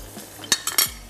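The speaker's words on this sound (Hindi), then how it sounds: "इसको मैं स्पून की मदद से थोड़ा सा मिक्स कर लेते हैं ताकि अच्छी सी ऑयलिंग हो जाए" A spoon scraping and clinking a few times in a pan as olive pomace oil is mixed, three or four quick metallic taps over a quiet background, close and soft.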